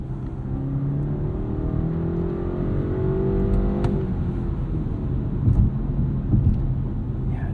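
2024 BMW 530i xDrive G60 5 Series engine accelerating during sporty driving on a hill road, a steady humming drone heard from inside the cabin with rising pitch that drops off at a shift, fairly loud and continuous.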